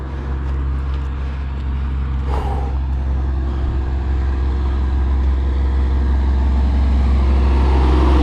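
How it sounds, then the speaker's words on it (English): A big truck rumbles past on a main road, its loud low engine drone building steadily with a brief hiss partway through, no talking heard. "Big truck coming past."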